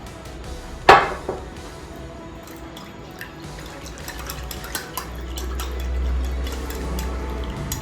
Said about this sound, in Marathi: माझं ताक थोडं घट्ट झालंय म्हणून मी परत पाणी घालते इथे